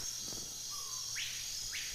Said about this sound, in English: At the 9-second mark, we can hear a chirping.